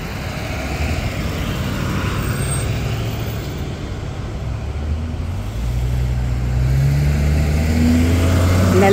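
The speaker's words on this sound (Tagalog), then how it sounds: "lalaki ng mga truck po" Large construction trucks pass near a bridge, their deep engine rumble swelling and growing louder toward the end over steady road noise, with no talking.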